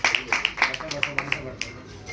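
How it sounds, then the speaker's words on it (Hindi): Scattered hand claps from a small audience welcoming guests onto the stage at a formal event in Delhi, sparse and uneven, fairly quiet and mixed with background murmur. "हम तालियों से अपने मेहमानों का स्वागत करें।"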